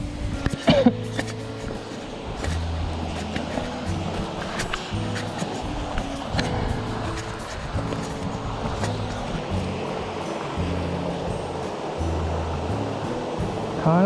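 Marugami waterfall in Saitama, Japan, a steady broadband rush of falling water heard throughout the clip, with intermittent low thumps and handling noises near the recorder.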